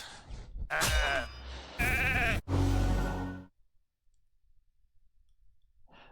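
Cartoonish sheep bleats from the video game RAID: Shadow Legends, three loud wavering bleats in quick succession with clicks, then near silence.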